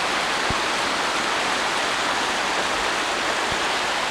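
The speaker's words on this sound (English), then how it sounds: "Nice little creek on the road." Snowmelt after a 1993 blizzard running down a road like a small creek: a dense, constant rushing wash of flowing water, fairly close and even throughout, with a couple of faint low thumps and no talking.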